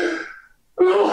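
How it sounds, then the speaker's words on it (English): A person sneezes during a sports podcast, a breathy intake followed after a short pause by a sharp, loud burst, close to the microphone. "I'm sneezing."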